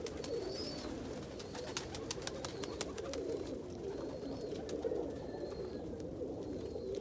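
Pigeons coo continuously in a loft housing Indian fantails and rollers, a dense low murmur of calls with scattered sharper clicks and flutters throughout, no speech.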